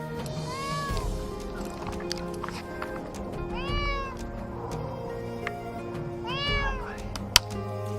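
A frightened kitten stuck high in a tree in the dark meows three separate times, a few seconds apart, each cry clear over a soft musical background.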